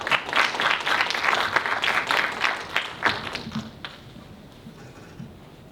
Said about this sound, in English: Please give our candidates for International Senator a warm round of applause as they enter the stage.